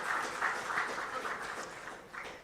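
An audience applauds steadily for a speaker at a ceremony for the release of the CXC 2026 May-June examination results. The dense, even clapping holds at moderate loudness, then thins slightly toward the end.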